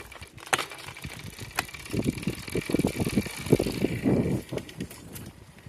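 A recumbent bicycle rolls along a quiet busway, with steady road and chain noise, soft wind rush and faint mechanical whirring, plus a couple of brief clicks near the start.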